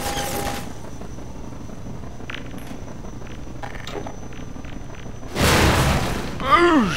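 A delayed explosion in Half-Life 2 bursts out suddenly after several seconds of quiet scattered game noise, a loud broadband blast followed by a second, shorter flare.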